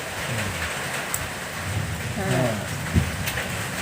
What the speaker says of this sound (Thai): โอ้เสียงฝนท่านผู้ชม